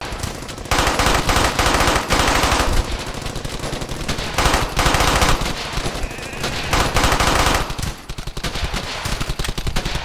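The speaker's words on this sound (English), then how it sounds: "the sound effects have that sort of signature crack to them that you would expect coming from a bullet" Rapid bursts of gunfire from the video game Brothers In Arms: Hell's Highway, loud and sharp with cracking reports, firing in sustained automatic volleys with brief pauses between.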